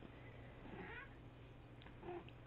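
Peaches, a pet cat, gives a pair of short, faint meows at close range over a steady low background hum, with no one talking.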